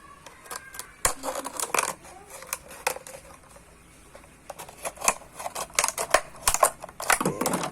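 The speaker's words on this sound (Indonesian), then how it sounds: "kemudian menggunakan gunting." Scissors snip through a plastic bottle being shaped into a trumpet, giving sharp crackling cuts close by, irregular at first, then faster, denser clusters of snips and plastic crinkles toward the end.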